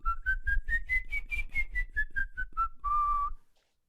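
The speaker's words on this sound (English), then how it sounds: "if you whistle and go" Someone whistles a quick run of short notes rising then falling in pitch, ending on one longer held tone, close and clear with nothing else heard.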